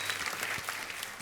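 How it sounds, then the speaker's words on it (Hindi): Applause from a studio audience on a Hindi comedy talk show, a steady dense patter of many hands at moderate level across the whole short stretch, with no voices over it. "तो एक बार जोरदार तालियां हो जाए पहले उनके लिए।"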